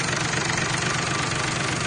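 A louhan engine running on test, a steady low idling hum with a slight rhythmic throb, moderately loud and unbroken, no voices.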